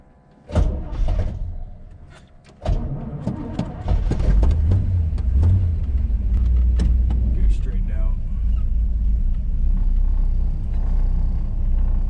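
A 1956 Chevy Bel Air's engine catches after door thumps and clatter, then settles into a deep, loud rumbling idle with a few revs rising over it, while people talk nearby.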